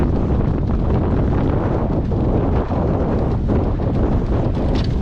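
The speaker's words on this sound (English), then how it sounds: "As you can probably tell, that wind is picking up" Strong wind roars steadily and loudly into the microphone outdoors during a 15 x 1K marathon interval running session, a dense continuous buffeting with no talk.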